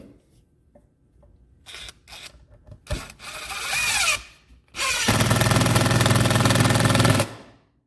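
A Craftsman impact driver drives 3.5 inch wood screws into a 4 inch piece of wood: some short taps and whirs first, then a long loud hammering run that stops abruptly.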